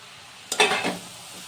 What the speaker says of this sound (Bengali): তো চিংড়ি মাছ দেওয়ার পরে গ্যাসের ফ্লেমটাকে মিডিয়ামে রেখে আমি আরও 3-4 মিনিট মতো নাড়াচাড়া করে নেব।